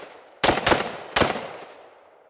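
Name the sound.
gunshots from a firearm fitted with a brass catcher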